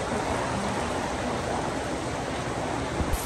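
Heavy rain pours in a dense, steady hiss that fills the whole three seconds without letup, loud and close, with a faint knock near the end.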